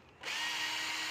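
A battery-powered impact wrench starts up close by and keeps running with a steady high whine for about a second, with no talk.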